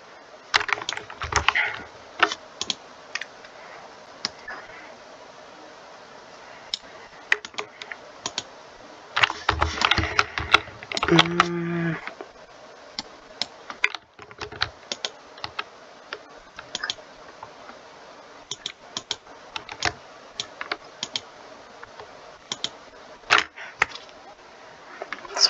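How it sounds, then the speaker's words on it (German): Computer keyboard typing during a retail-store game session, a steady run of close, clicky keystrokes in bursts with brief pauses, plus a few faint bell-like ticks. "Sorry Leute, dass ihr meine Tastatur hört."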